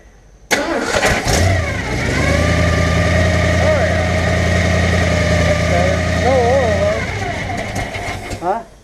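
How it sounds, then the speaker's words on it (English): A 1979 Ford engine cranks, catches and runs loudly close by, holding a rough idle with small throttle blips before cutting out, while people talk over it. "Try to give it just a little bit of gas so it revs up."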